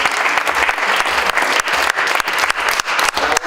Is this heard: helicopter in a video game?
no